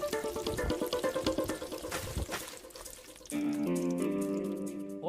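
Water is thrown and splashed onto a person in a rapid run of wet splashes and pouring, with a steadier tonal sound entering partway through.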